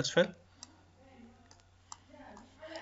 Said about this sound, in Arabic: ونضغط على كليك الماوس اليمين